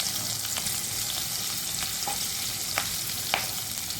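Chopped green chillies frying in oil give a continuous close sizzle for okra bhaji, with a few light stirring clicks scattered through it and no speech.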